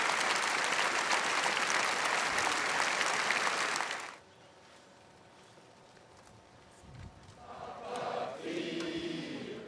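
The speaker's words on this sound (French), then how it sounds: "La foule a alors applaudi pendant de longues secondes" A crowd applauding at an outdoor memorial ceremony on the Promenade des Anglais in Nice, dense sustained clapping that stops abruptly, leaving a hushed murmur before voices and crowd sounds rise again.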